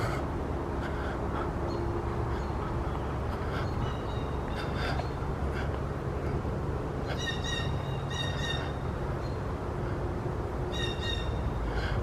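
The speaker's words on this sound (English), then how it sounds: "Listen to the birds." Birds call outdoors in a cemetery in spring, with short repeated chirps and calls scattered over steady background ambience, a few bursts clustering near the end.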